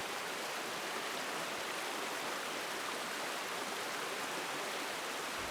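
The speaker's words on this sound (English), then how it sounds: "The cold spring-fed creek is nestled among the bluffs and has this really cool vibe there." Cold spring-fed creek flowing among bluffs, a faint, steady broadband rush of running water with no breaks.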